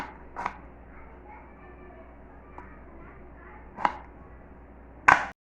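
A knife cuts brinjal (eggplant) into pieces, giving a few separate sharp chopping thuds on a board spaced seconds apart, the last the loudest, in an otherwise quiet kitchen.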